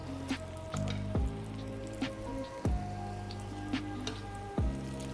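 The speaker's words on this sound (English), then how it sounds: "Now it's time to fry these again." Taco shells fry in hot oil for homemade Jack in the Box copycat tacos, giving a steady sizzle with a few louder bursts and clicks as they are handled, close and alone.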